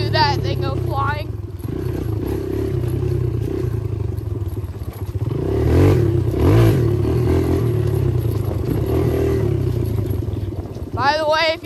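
A 2019 Kawasaki KLX 140 dirt bike engine revs on an evening trail ride, a rising and falling buzz that swells loudest mid-clip over rough clatter, with brief voice-like sounds at the start and end.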